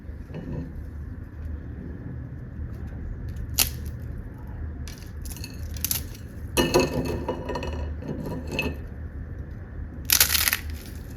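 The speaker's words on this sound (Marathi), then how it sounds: "आता ही चकली तुम्हाला तोडून दाखवते." A crisp fried chakli made from bhajani flour snapped apart by hand, several sharp crunching cracks in separate bursts against a quiet background, each break loud and close.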